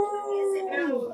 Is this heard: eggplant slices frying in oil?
no